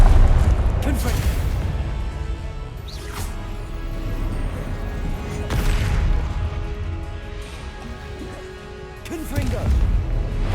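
Repeated Confringo explosive spells cast in the Hogwarts Legacy video game, several booming crashes and blasts in quick succession over a busy rumbling background.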